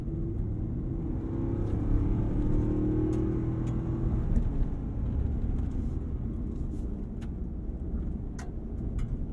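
A 2021 Ford F-250 Super Duty Tremor pickup with a 7.3-liter V8 accelerates, a steady low engine drone and road rumble heard from inside the cab, rising slightly early on and holding.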